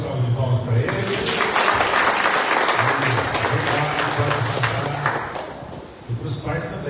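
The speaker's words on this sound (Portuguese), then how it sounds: "Mais uma vez uma salva de palmas para eles." A church congregation at a Baptist service in Mirassol applauds, dense clapping swelling then thinning out near the end, with a sustained low tone, probably an organ or keyboard, underneath.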